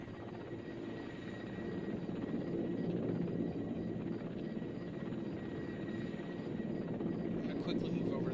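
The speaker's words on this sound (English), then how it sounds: "This is a helicopter launch pad, so it is possible he's going to set down right here in front of me." Helicopter in the Arma 2: Operation Arrowhead video game hovering near a launch pad, a steady droning rotor and engine roar holding at constant loudness throughout.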